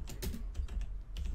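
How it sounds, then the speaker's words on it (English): Computer keyboard keys clatter in quick irregular bursts while typing into a Friday the 13th game chat, close and fairly crisp, with short pauses between flurries and no talk. "I'm just gonna type in here."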